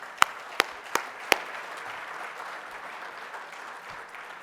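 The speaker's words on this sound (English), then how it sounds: "Let's give a round of applause for that." An audience at the Dania Beach State of the City Address applauds. A few sharp, separate claps are followed by a steady, fairly faint wash of clapping from the room.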